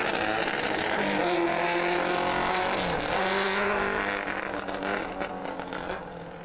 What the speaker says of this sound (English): Now it sounded like he was really having a hard time shifting.